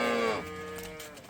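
Calves lowing in a farm pen, a single drawn-out moo that starts loud and full, then tapers into a softer, lingering tail, close by with no voices.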